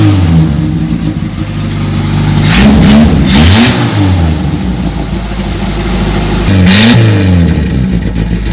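A classic Ford engine, long left sitting, runs loud and close with its catalytic converter removed and a leaking exhaust, idling rough between two sharp revs that climb and fall back.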